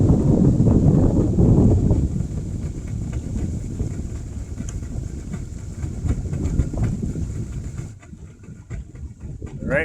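Wind buffets the microphone during a boat ride on the Pigeon River, a steady loud rushing roar with engine drone beneath, easing slightly near the end.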